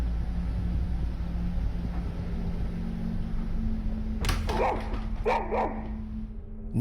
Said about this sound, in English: Nick's grandmother's dog starts to growl toward the kitchen for no reason.